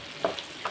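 Bitter gourd frying in a pan, a soft continuous sizzle with a couple of brief crackling pops, close and fairly quiet.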